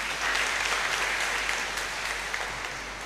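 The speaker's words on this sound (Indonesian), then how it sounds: "Kasih tepuk tangan dulu" A church congregation at a Sunday Mass claps warmly for an elderly woman, a dense, sustained wash of applause that fills the room for its full length before easing slightly at the end.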